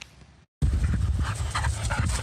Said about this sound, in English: ABC's Danny New introduces us to a service dog with a nose like no other.